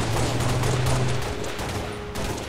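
Gunshots ring out in a Halo Grifball match, a rapid run of loud shots over busy game noise, with a steady tone underneath.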